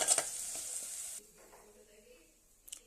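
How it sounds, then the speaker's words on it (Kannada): Small-cut bitter gourd pieces fry in oil until dark, sizzling loudly for about a second before the hiss drops to a faint simmer, with a brief crackle near the end. "ಹಾಗಲಕಾಯಿನ ಈ ಥರ ಸಣ್ಣದಾಗಿ ಕಟ್ ಮಾಡಿಕೊಂಡು ಈ ಥರ ಕಪ್ಪಾಗೋವರೆಗೂ ಹುರಿಬೇಕು."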